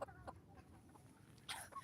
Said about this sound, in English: that's our rooster that we call Amethyst